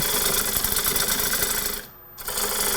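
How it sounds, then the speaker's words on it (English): A gouge scrapes a three-foot natural-edge wooden bowl spinning on a lathe, giving a steady, loud, rasping drone that cuts out briefly near the end and then resumes. "So I'm just going to do more scraping"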